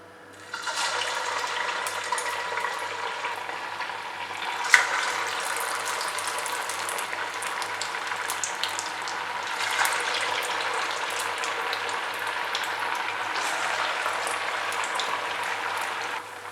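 Medu vadai frying in hot oil, a steady broadband bubbling hiss that runs continuously and evenly throughout with no voices, a few faint pops rising briefly above the constant sizzle.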